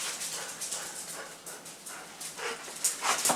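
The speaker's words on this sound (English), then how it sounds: "The dogs are like freaking out." Several excited dogs pant rapidly and let out high whimpers nearby, a restless, fairly soft stream of breathy huffs and thin whines with no talking.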